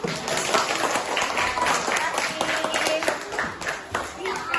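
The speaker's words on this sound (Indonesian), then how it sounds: "beri tepuk tangan dulu" Primary-school class applauding during an Indonesian lesson on saving water, with steady broadband clapping from many children that stays moderately loud throughout, mixed with chatter and children's voices.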